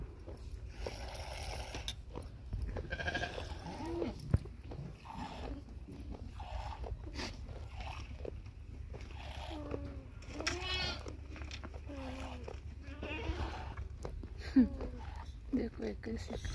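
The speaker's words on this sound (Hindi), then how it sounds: "वो दूसरी बकरी है" Goats bleating repeatedly at varied pitch, fairly faint and close, mixed with people talking and low background noise during goat milking.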